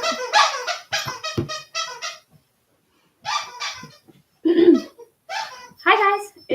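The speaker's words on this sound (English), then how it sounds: "I apologize for my puppy playing with her squeaky toy." A puppy plays with a squeaky toy in a home kitchen, with several short squeaks and scuffles coming in irregular bursts, close and fairly loud, with pauses between them.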